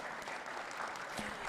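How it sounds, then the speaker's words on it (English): A crowd applauds the speakers at an eco tourism panel discussion, producing a continuous, even wash of clapping from many hands across a hall, held at a steady level. "Please give a big applause again for the speakers."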